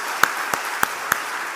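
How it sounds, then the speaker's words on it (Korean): Clapping in a church congregation during a dedication and ordination service, heard as four sharp, evenly spaced claps ringing out over a quiet hiss. "박수하겠습니다"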